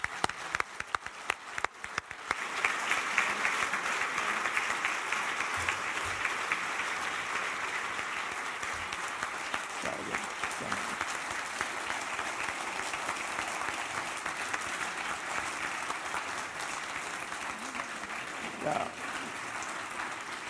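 An award ceremony audience gives a steady, full round of applause that carries on throughout, with scattered louder claps and faint voices underneath.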